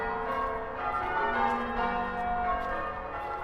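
Church bells pealing in change ringing, a dense, continuous wash of overlapping metallic tones and ringing harmonics sustained at steady loudness, with no voices.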